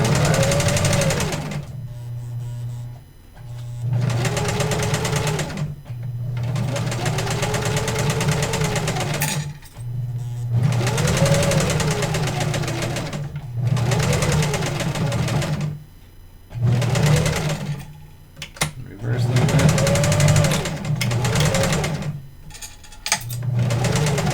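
A sewing machine stitches a replacement zipper onto a sack, running in repeated bursts of fast mechanical stitching, pausing briefly between runs, close and steady with no voices.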